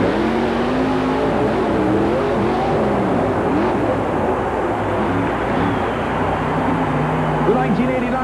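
Ford monster truck with a home-built engine racing around an arena track at a 1991 USHRA event, its engine roaring loudly and continuously with shifting pitch under a commentator's voice.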